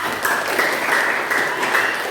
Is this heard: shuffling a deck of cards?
no